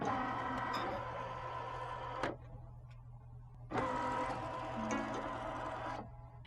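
A Solaris sewing and embroidery machine runs its scan of a hoop frame: two steady mechanical whirring passes with faint ticking, separated by a short quieter pause, close and moderately loud with no talking.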